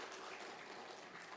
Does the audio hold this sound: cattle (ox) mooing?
no